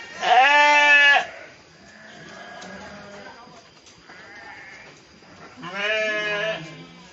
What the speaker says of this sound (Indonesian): Kita lihat domba-domba yang siap untuk dijadikan hewan kurban.